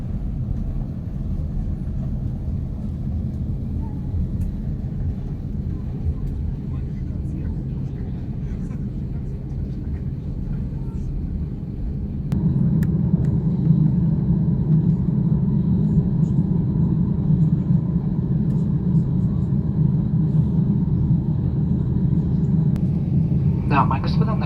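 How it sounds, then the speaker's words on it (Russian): Steady low cabin rumble inside an Aeroflot Airbus A350-900 before takeoff on a Moscow to Vladivostok flight, a continuous engine drone that steps up louder midway and holds, with no voices heard. "Дамы и господа, наш самолет готов к взлету."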